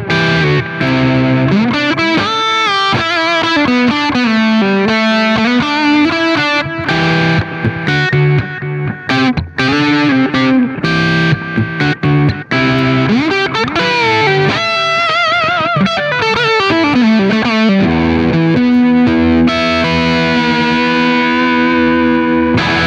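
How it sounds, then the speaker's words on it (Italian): Guitar run through a tape-style delay on a TC Electronic Plethora X5 pedal, repeats slightly darkened, with bending, sliding lead lines and sustained notes playing steadily throughout, no voices. "Il tape è quel delay che tende a perdere un po' di alte frequenze"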